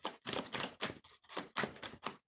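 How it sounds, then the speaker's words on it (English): Tarot cards riffle and slap together in a quick, crackling shuffle, a rapid series of papery clicks in short bursts, close and fairly quiet. "Last shuffle."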